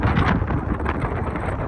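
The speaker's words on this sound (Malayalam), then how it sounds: "ആരും പേടിക്കേണ്ട, കാറ്റ് എത്രത്തോളം ശക്തിയുണ്ട് എന്നുള്ളത് നിങ്ങൾക്ക് ഞാൻ കാണിച്ചു തന്നെയാണ്" Strong wind at a waterfront buffets the microphone with a continuous loud, low roaring rumble and gusty surges throughout, with no one speaking.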